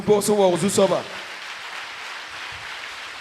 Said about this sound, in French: Acclamez le Seigneur s'il vous plaît